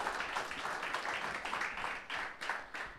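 A church congregation applauds, a thick burst of clapping that swells in waves, moderately close and fairly quiet, with no talk over it.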